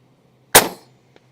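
A single sharp shot from an Umarex UX Gauntlet SL .30 PCP air rifle at an outdoor airgun expo, a loud close crack with a brief decaying ring, followed by a faint click.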